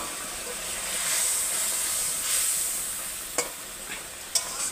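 Pomfret curry in mustard oil simmering and sizzling in a pan, a steady close bright hiss with gentle bubbling and a couple of sharp spoon clicks near the end.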